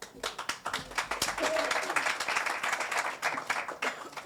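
Audience clapping at a community event, a dense run of overlapping claps that holds steady at moderate loudness, with a voice faintly audible under it.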